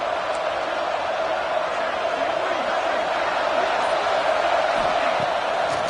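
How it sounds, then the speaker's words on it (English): At a Penn State at Miami college football playoff game, the stadium crowd roars on a third down. The dense cheering holds loud and steady throughout. "Third down, and the crowd really getting into it."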